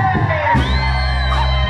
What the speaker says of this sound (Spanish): ese grito fuerte